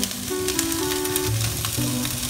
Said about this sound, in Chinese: 那个香肠其实只需要炒一下下